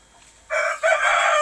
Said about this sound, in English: And this chicken, they will always make this noise.